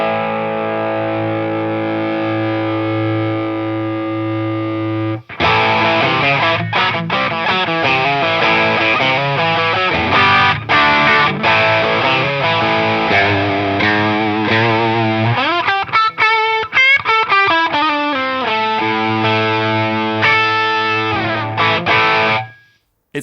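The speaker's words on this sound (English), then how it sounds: "what happens if we maximize the gain on the overdrive? Does it sound like distortion?" An electric guitar plays through an overdrive pedal with the gain at maximum. A sustained chord gives way to a run of rapid, gritty notes and bends, loud and close, ending with a fade.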